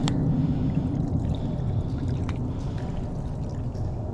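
Water poured over a freshly caught fish on a fishing trip, a steady close splashing and trickling with a low rumble beneath, continuous throughout.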